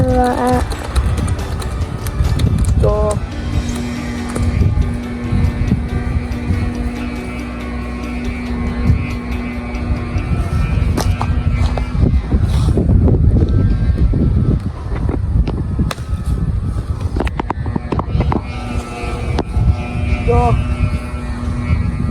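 A strong southwest monsoon wind roars and buffets constantly for over twenty seconds, loud and gusty, with voices talking through it.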